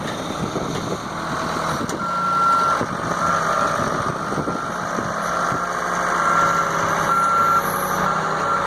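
A Ford Super Duty parts truck is being moved outdoors for rear axle removal, its engine rumbling steadily nearby while a backup alarm gives intermittent high beeps in short runs.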